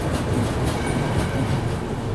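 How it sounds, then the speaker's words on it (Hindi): The Sarvodaya Express from Ahmedabad to Shri Mata Vaishno Devi Katra rolls past close by at Jalandhar Cantt railway station, a steady, dense rumble of wheels and carriages with no pauses and no speech. "बगल से ये क्रॉस हो रही है अभी सर्वोदय एक्सप्रेस, अहमदाबाद से श्री माता वैष्णो देवी कटरा जाने वाली।"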